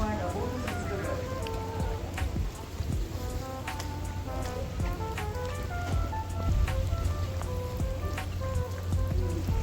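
Rain patters steadily on a hard surface, with sharp individual drops tapping throughout and a faint hum underneath.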